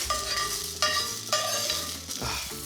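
Mushrooms browning in oil in a hot skillet, with a steady sizzle and repeated scraping stirs across the pan surface, all close and continuous, with no talking.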